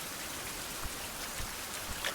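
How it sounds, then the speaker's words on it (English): Steady rain pours down in the survival game Silver Island 2 on a pitch-black night, a dense, even hiss of drops with faint low thumps and no voices. "I can't light my torch because it's raining"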